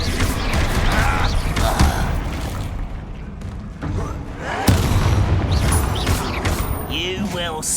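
Confringo fire-blast spell explosions in the Hogwarts Legacy video game, booming bursts layered over dense game action and music, with a sharp impact near the middle and a fizzing magical tail at the end.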